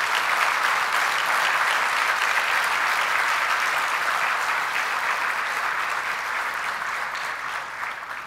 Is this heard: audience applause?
yes